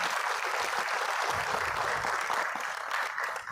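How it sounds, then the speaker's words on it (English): Applause from a conference audience welcoming dignitaries, steady and full throughout a few seconds with no break. "May we welcome them with a huge round of applause"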